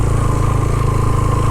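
Motorcycle engines idle and rumble steadily nearby on a mountain off-road track in Neelum Valley, Kashmir, a loud continuous low drone with no speech.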